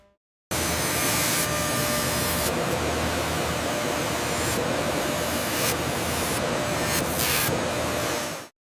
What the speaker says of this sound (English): This CNC machine demonstrates the clear superiority of automated cutting.